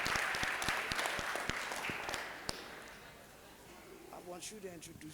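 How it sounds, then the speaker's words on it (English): Audience at a school event for the National School Day of Non-violence and Peace clapping; a loud burst of applause and individual claps that thins out over a few seconds, with voices talking and cheering beneath it. "Y'all clap it up for everybody in here today."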